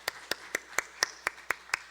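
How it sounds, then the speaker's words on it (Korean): Church congregation clapping during a Korean Sunday worship service: eight sharp, evenly spaced claps in a steady rhythm, fairly faint and with no talking. "우리 하나님 앞에 영광의 박수 올려드리겠습니다"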